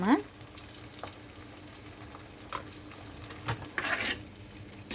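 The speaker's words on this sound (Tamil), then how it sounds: "கடுகு கூடவே கொஞ்சம் ஒரு மிளகும் போட்டுப்போம்." Mustard seeds, black pepper, onion and garlic frying in hot oil for a fish curry: a steady close sizzle with stirring scrapes and clinks of a spoon on the pan, and a louder crackling burst near the end.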